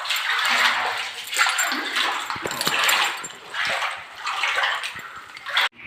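Water drips and flows inside a cave in Maddela, Quirino, a continuous splashing wash with scattered drips and small plops, moderately close, rising and falling in gentle surges with no talk.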